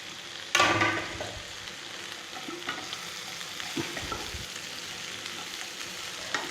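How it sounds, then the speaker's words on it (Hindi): Okra hitting hot oil with turmeric in a pan, a sharp burst of sizzling at first that settles into a steady, soft frying hiss, with faint scrapes of stirring and no voices. "अब हम इसमें डाल लेंगे भिंडी को।"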